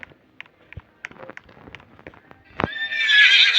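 A horse in the game Roblox clops along with sparse, irregular hoof knocks, then lets out a loud, sustained whinny that swells and continues to the end.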